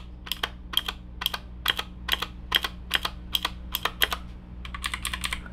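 Rapid clicky keystrokes on a Zeus G61 entry-level mechanical keyboard with clicky switches, about a dozen sharp, evenly spaced clacks that quicken into a dense burst at the end, close and clear over a low steady hum.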